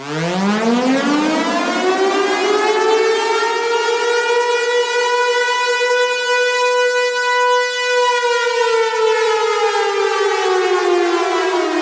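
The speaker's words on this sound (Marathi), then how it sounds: "सात मे दोन हजार पंचवीस रोजी अशा प्रकारे सायरन वाजे" A loud civil defense siren wails steadily during a mock drill in Uran, rising in pitch at the start and holding a long sustained tone before sagging slightly near the end.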